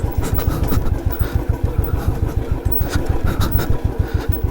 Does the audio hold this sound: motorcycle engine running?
yes